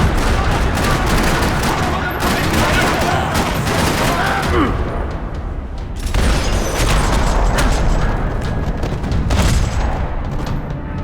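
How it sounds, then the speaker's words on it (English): Dense, continuous gunfire fills a parking lot shootout in the video game Max Payne 3, with rattling automatic bursts, overlapping shots and booming impacts running loud throughout, a brief lull near the middle before the barrage resumes. "Another parking lot rattling with gunfire."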